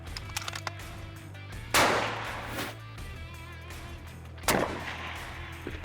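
Two sharp precision rifle shots from a PRS competition crack a few seconds apart, each loud and close with a short echoing tail over a low background hum.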